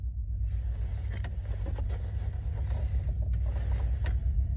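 Freight train cars rolling past close by, a heavy continuous low rumble with scattered creaks and metallic clanks from the wagons, steady throughout.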